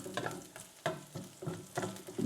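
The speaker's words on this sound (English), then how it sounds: "And keep stirring it. We don't want that garlic to burn." Garlic, peppers and onions being stirred in a pan for a chicken balti, a soft sizzle with repeated scraping strokes of the spoon every half second or so, close and steady.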